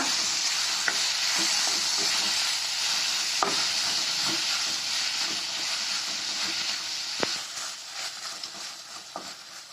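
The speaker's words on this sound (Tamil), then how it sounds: "இதோட 3 பழுத்த தக்காளி சேர்த்துக்கோங்க. தக்காளியும் நல்லா வதக்கிக்கோங்க" Three ripe tomatoes sautéing with onions in a pan for paneer butter masala produce a continuous bright sizzle close by, punctuated by scattered scraping and tapping stir strokes.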